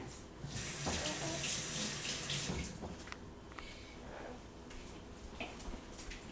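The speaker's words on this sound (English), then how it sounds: "I'll wash my hands." Hands washed under a kitchen tap while making deviled eggs: a steady, close rush of running water splashing into a sink, constant throughout with faint clinks over it.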